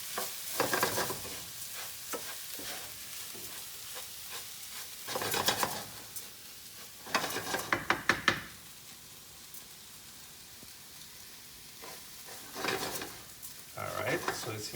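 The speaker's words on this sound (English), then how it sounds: "So just blend it with the onions for maybe 30 seconds, just for it to absorb all the flavor of the onions as well as the oil." Rice being stirred with onions and oil in a pan for risotto, a wooden scrape and soft sizzle coming in several short bursts with quiet gaps between, faint and close.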